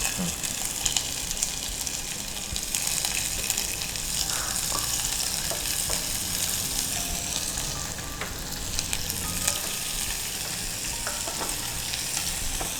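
Onions sizzle and fry steadily in a pan for tomato bath, a dense continuous crackle close up with occasional stirring, and no speech over it.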